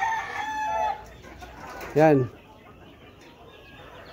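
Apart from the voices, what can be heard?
chickens on a farm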